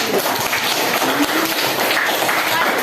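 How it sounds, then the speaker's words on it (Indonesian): Pupils in a classroom give a group a round of applause, busy overlapping hand claps mixed with a murmur of young voices, loud and close for under three seconds. "Kalau nggak ada, tepuk tangan untuk kelompok."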